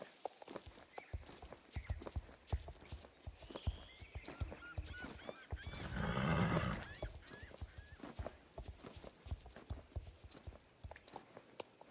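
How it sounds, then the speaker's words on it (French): Horse hooves canter in the Star Stable video game, a rapid repeated clip-clop rhythm heard close throughout, with a whinny and a swell of splashing or rushing noise in the middle. "Il adore galoper, mais aussi l'eau. Oh, oh. Et au petit galop."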